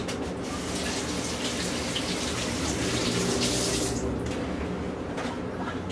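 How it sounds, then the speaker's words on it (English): A kitchen tap runs steadily as hands are rinsed under it, a close, continuous splashing hiss that cuts off near the end, leaving faint drips. "Let me just rinse off my hands really quick."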